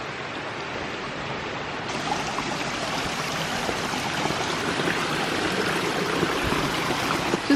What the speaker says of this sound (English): here's the river. This looks easy to cross.